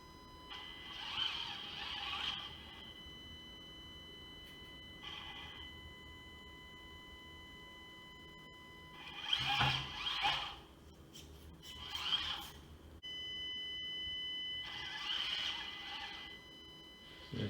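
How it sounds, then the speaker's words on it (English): A Furitek Lizard motor in an SCX24 Jeep RC truck gives off a high, thin electric whine in about five short bursts as the throttle comes on and off, with quiet gaps between them and a faint hum underneath. "A lot of whine."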